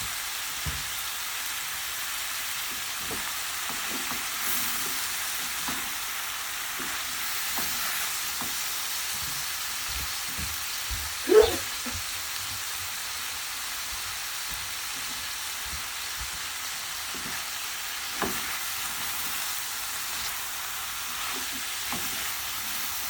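Dried sprats fry in a pan with a steady, close crackling sizzle, broken by occasional soft pops and one sharper clatter midway, no voices.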